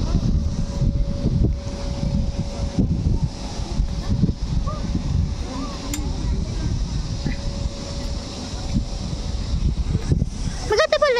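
Steady wind gusts buffet the microphone by the seaside on Ma Wan, a continuous low rushing roar through the whole stretch with faint voices underneath.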